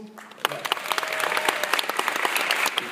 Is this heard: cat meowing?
no